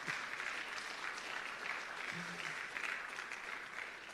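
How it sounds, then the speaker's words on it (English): Audience applause at a rebranding and quality recognition ceremony, a soft, even wash of clapping that stays fairly distant and steady throughout. "Give the people who do it a round of applause."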